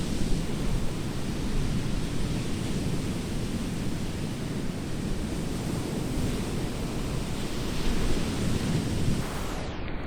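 Ocean waves at a beach in Puerto De La Cruz, Tenerife, a broad continuous wash of surf with a wind-buffeted rushing quality, loud and close throughout, swelling slightly near the end.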